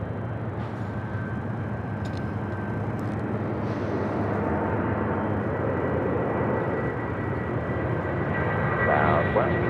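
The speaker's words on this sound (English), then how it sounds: "Next takeoff here on the south side is United Airlines Flight 2609 heading to Boston, the" A United Airlines Boeing 757-200 takes off from the south side at LAX, its engines a steady, loud roar that builds toward the end, with voices faintly under it.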